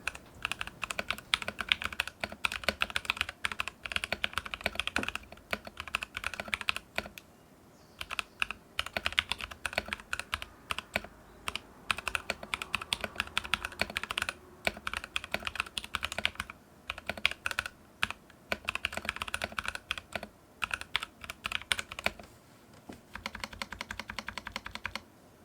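Mechanical keyboard typing on a Drop Alt fitted with TKC Kiwi switches and new stabilizers, a steady close run of clacky keystrokes with a few short pauses, no voices.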